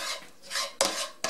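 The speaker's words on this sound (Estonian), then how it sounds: "Siia peale kallan ma nüüd selle ülejäänud sibulad" Chopped onions tipped from a container into a metal pan while making homemade blood sausage, giving soft scraping and rustling with two sharper clinks near the end, close by with no talk.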